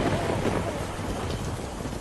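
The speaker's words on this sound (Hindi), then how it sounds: "इस तेज बारिश की बूंदें शरीर पर सुई चुभना सा लग रहा था" Heavy, pounding rain with rumbling thunder in a dense forest, a loud continuous roar of downpour filling the whole clip without any voices.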